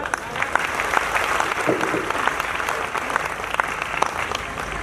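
Audience applause at a Chhattisgarhi comedy poetry gathering: a sustained, dense round of clapping from a crowd, steady in level with scattered sharper claps standing out.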